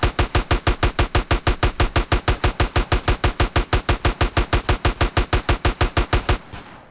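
Rapid automatic gunfire in GTA San Andreas, a long unbroken burst of evenly spaced loud shots, about six per second, close and dominant, cutting off abruptly at the end.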